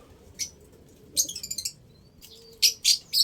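Caged, isolated breeder birds chirp in short, bright bursts: a lone tweet, then a quick rattling series of chirps and a few louder calls, close by over faint background noise.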